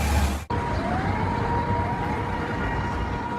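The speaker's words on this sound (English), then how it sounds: "Oh no, those air raid sirens." Air raid sirens sound a tsunami warning in Japan, a steady, sustained wailing tone heard from a distance, continuous and unbroken after a brief cut at the start.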